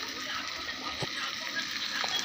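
Water is poured into sizzling spices in a pan for a pabda fish curry. It makes a faint, steady gushing hiss throughout with a soft splash or two.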